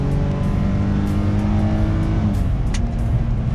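Close, loud 2020 Nissan Frontier Pro 4X pickup with its new V6 engine accelerating, a steady deep rumbling drone with rising harmonics and no speech.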